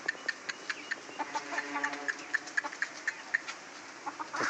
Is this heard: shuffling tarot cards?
no